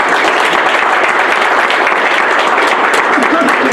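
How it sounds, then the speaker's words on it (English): A loud, close round of applause from an evening audience at a judicial event in Monroe, Louisiana, dense clapping sustained without pause, with voices mixed in. "Let's give them a round of applause."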